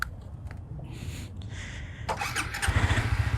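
A motorcycle starts outdoors at a motor show: a few quiet clicks and rustles, then the engine catches and settles into a close, throbbing idle that rises in loudness toward the end.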